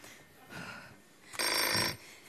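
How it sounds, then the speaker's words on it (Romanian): A telephone rings in two bursts, a short softer trill followed by a longer, louder electronic ring, heard close with no talk over it. "Dintr-o dată sună telefonul."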